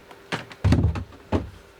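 A cabinet door on a sailboat's navigation desk is pulled off its mount, giving a few close wooden thumps and knocks with a short rattling clatter in between, in a quiet interior.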